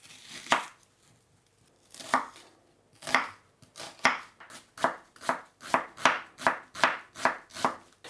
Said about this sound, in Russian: Я его пошинкую мелко.